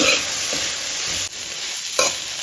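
Onions frying in a pan for desi-style Maggi, giving a loud, continuous hiss of sizzling oil with a couple of soft stirring knocks.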